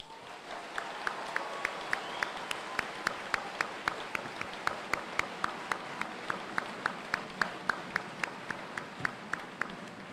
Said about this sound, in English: please join me in a round of applause to honor the tireless work of our drill sergeants